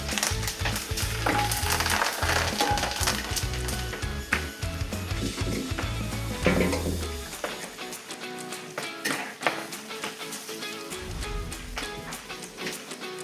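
Vizhinjam-style chicken fry with chilli and curry leaves frying in a pan, steady sizzling and stirring loud for the first seven seconds, then fading to a quieter hiss with occasional scrapes.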